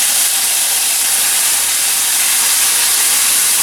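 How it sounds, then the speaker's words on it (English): Mushrooms dropped into overheated oil in a preheated pan sizzle hard, a loud, steady, broadband hiss that runs unbroken throughout with no pauses. "I put my mushrooms in. That oil was a little hotter than I thought it was"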